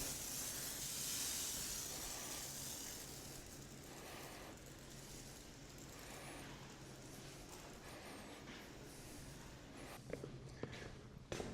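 Aluminum cleaner sprays from a pump sprayer onto the hull of a 40-year-old Bass Tracker boat, a loud steady hiss at the start that eases into a softer continuous spray, with a few small clatters near the end.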